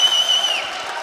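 Spectators cheer and applaud a new champion at a table tennis championship, a brief burst of crowd noise with clapping under a steady high electronic tone.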